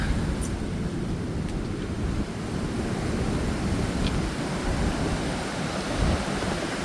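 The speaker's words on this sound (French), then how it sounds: "Il y a des grosses vagues qui arrivent" Big ocean waves surge and crash near a rock wall on the coast, a continuous heavy low roar of surf with wind noise, close and loud with no break.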